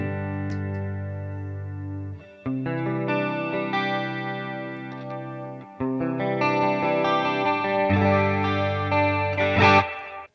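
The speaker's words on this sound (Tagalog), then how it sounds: "Paborito ko kasi yung tunog ng chorus na to." Electric guitar playing a clean tone through a chorus pedal on a Valeton GP-50 pedalboard: sustained, shimmering chords and single notes that ring out in close, loud phrases with brief gaps between them.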